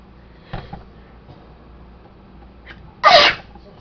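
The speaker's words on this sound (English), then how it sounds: "Bless me, Father, for I have sneezed." A single sharp, loud sneeze near the end, preceded by a couple of quiet sniffs and breaths in an otherwise hushed room.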